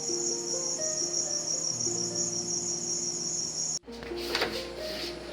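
Crickets chirping at night during a family trip to Murguma, a loud continuous high-pitched trill over faint low hum, cut off abruptly near the end and replaced by rustling noise.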